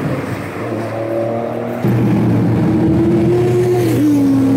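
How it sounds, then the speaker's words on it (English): Several six-cylinder four-door sedans roar nearby during a Japanese street drifting session, the engine note holding steady and then rising and shifting pitch as the cars rev and accelerate, loud and continuous with no talk. "Just the roar of these six-cylinder, four-door sedans."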